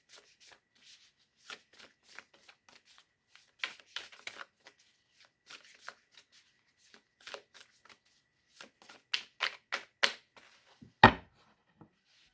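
Tarot cards being shuffled by hand, a series of crisp riffling bursts and soft slaps in irregular clusters, close and dry, ending with a sharper knock.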